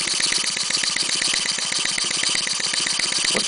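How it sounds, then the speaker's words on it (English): A Stuart 10H model steam engine running on air pressure chuffs in a rapid, steady rhythm, with a close mechanical clatter and hiss and no voices. "This is a Stuart 10H running on air pressure at the moment."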